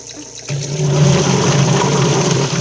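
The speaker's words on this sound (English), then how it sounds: "Turn the water on." Water gushes on from a tap and keeps running steadily, a loud close rushing splash with a faint low hum underneath, during chicken processing.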